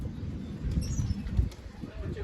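Pigeons are released from their coop and take off with a brief flurry of wing flaps, close and fairly soft, over a low rumbling background.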